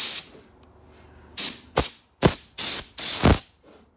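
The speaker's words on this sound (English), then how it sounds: "And then you can start spraying the actual lacquer." A spray gun hisses in five short, sharp bursts of clear coat lacquer on a 1992 BMW E36 boot, each a loud spray that quickly tapers off, with brief quiet gaps between them.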